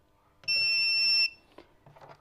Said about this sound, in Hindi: एक बजर साउंड आई है लंबी।